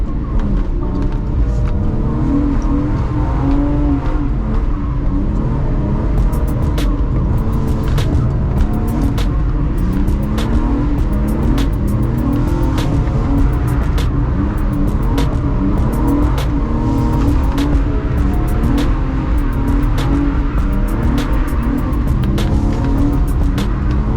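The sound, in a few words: car engine revving on track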